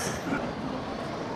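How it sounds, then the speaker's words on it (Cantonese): A subway train rumbles into a station on the metro line at Fukuoka Airport's domestic terminal, a steady, roaring broadband rush with no voices. "有車啦，有車啦！"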